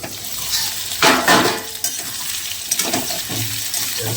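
Potatoes frying in a covered pan for a home-style chicken and potato curry, a steady close sizzle with bursts of stirring and scraping, louder around the middle, with no voices.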